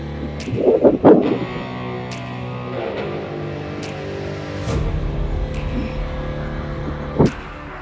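Cars and vehicles pass along a flooded stretch of MacArthur Highway during a typhoon, a steady motor rumble with water sloshing and a few sharper splashes and knocks, fairly close and continuous.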